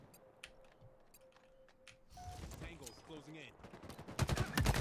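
Video game gunfire crackles in rapid bursts during a live-streamed shooter match, sparse shots at first, then denser automatic fire building louder toward the end, with game sounds and voices mixed in.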